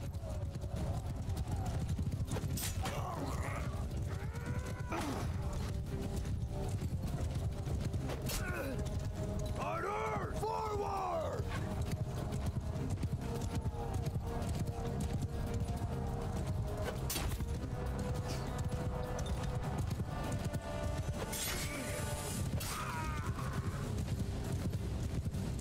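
Horses gallop in a battle in Mount and Blade Bannerlord, a continuous drumming of hooves with occasional whinnies, mixed with shouted orders and combat noise under someone talking.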